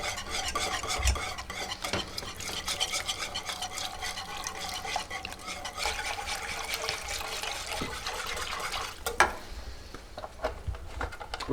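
Stock being stirred slowly into a flour roux in a pot, a steady close wet swishing and scraping with faint sizzling that continues evenly throughout.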